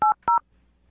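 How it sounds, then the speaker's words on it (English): A telephone keypad is dialed: two short, clean touch-tone beeps in quick succession, loud and close, then silence. "I'm going to dial the phone right now"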